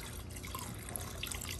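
Water trickles from a garden hose with no shutoff valve, a faint, steady wash of running and dripping liquid that continues throughout with no voices.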